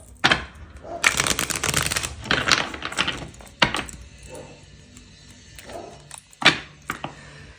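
A deck of tarot cards is shuffled in several quick riffling bursts with taps and thumps between them, close and crisp, while a voice speaks quietly in between.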